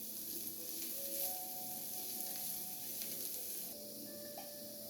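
Ragda mixture with a splash of slurry stirred in a hot pan at home, giving a steady broad sizzle with faint scraping strokes, fairly loud and close, no talking.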